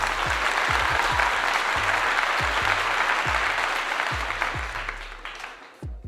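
Sustained crowd applause for football player Isaiah Bolden, a dense steady wash of clapping that fades toward the end, with low thumping bursts underneath.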